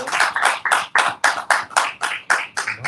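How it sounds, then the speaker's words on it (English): Rhythmic hand clapping at a Sabbath worship service, steady evenly spaced claps close by with no voices over them. "Let's give the Most High a round of applause for our glorious Lord."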